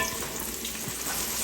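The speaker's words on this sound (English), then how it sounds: "More sizzle. More sizzle. Get these going." Celery, onions and other vegetables sizzle steadily in a hot pan, a continuous bright crackle with a few soft stirring knocks underneath.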